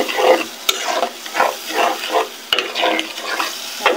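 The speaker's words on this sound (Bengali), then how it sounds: "আর একটু কষিয়ে নেব।" Chicken curry with spices being stir-fried in a pan, a rhythmic series of close scraping stirs over a continuous sizzle, each stroke about half a second apart, with a couple of sharp utensil knocks.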